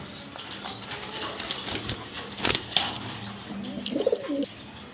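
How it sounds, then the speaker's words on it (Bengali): Afsan grizzle female racing pigeons coo softly and flap their wings in short bursts up close, with a few louder wing-beat flurries and a low coo near the end. "দেখতে পারতেছেন আফসান গ্রিজেল 2 পিস মাদি কবুতর"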